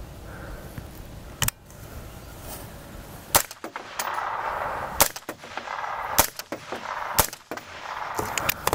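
Five gunshots are fired at body armor, each one a sharp, loud crack at irregular intervals, with a faint scattered ambient noise between shots.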